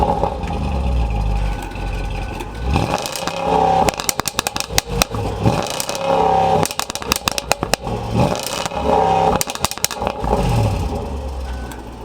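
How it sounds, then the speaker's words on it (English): A 2017 Range Rover Sport SVR's engine revs hard in repeated bursts, roughly three loud throttle blips rising and falling over a steady idle, with sharp crackles from the exhaust between revs and no talking. "let's take a listen to the exhaust note"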